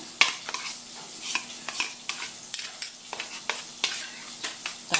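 Tofu sisig is stirred in a pan, a spatula scraping and clacking against the metal in irregular strokes over a steady low sizzle, close and fairly loud, with no talking.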